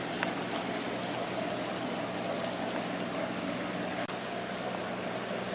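Gentle, steady water flow running through a boa constrictor's indoor enclosure, a quiet continuous rushing wash with a brief faint knock near the end, no talk.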